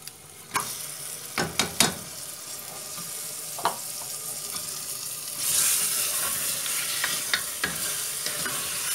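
Mutton being stir-fried with spices in a pan for a Hyderabadi sorrel-leaf curry, with a soft steady sizzle and sharp clanks and scrapes of the spoon at irregular moments, the sizzle rising louder midway.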